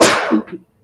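A single close sneeze bursts out loudly and trails off in a brief, breathy tail within a fraction of a second.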